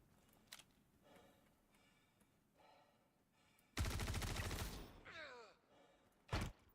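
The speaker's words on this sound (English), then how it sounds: "Why are they shooting over there?" Gunfire in Star Citizen, faint scattered shots at first, then a loud dense burst of rapid fire, with a sharp crack near the end.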